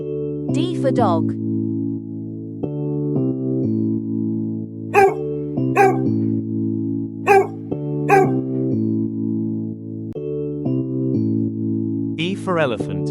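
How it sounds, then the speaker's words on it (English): A dog barks in short bursts, several single woofs spaced out, over a steady musical backing with a brief whine near the start and end. "D for dog."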